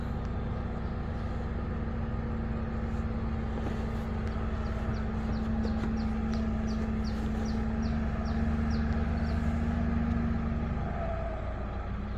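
A heavy trailer truck climbs a steep hill with a loud, steady low engine drone and a sustained turbo whine throughout, with faint birds chirping in the background.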